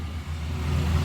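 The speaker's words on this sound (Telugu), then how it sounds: "మీకు ఒకసారి ఇంజన్ సౌండ్ కూడా చూపిస్తాను." A 2020 Maruti Suzuki Eeco petrol van engine idling steadily nearby, a low continuous rumble with no voices.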